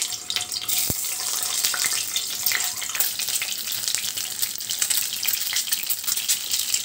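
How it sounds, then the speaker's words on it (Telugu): Cut boiled eggs frying in hot oil in a pan give a loud, steady sizzle with crackling bursts throughout, close up, with no talking. "ఇప్పుడు మనం కట్ చేసిన గుడ్లు వేసి వేయించుకుందాం."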